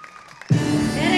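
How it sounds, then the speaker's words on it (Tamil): An audience at a film pre-release event for Pichaikkaran 2 bursts into applause for Vijay Antony, a sudden dense wash of clapping that starts abruptly and holds steady and loud. "ஒரு நல்ல கைத்தட்டல் கொடுத்துடலாம் விஜய் ஆண்டனி சாருக்கு"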